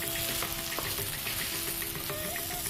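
Spinach sautéing in a hot pan gives a steady, dense sizzle throughout, with a few faint clicks of stirring mixed in and no voices.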